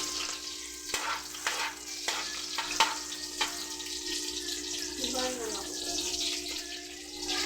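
Onions sauté in a pan, a moderate sizzle with scraping stirs and clinks of a utensil, a faint hum and water-like splashing underneath.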